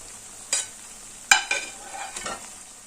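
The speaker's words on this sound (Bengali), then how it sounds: "এবার ফুলকপিগুলো দিয়ে দিচ্ছি" Cauliflower florets drop into a pan of potatoes, green peas and spices being fried, with a few sharp clatters of stirring over a soft sizzle.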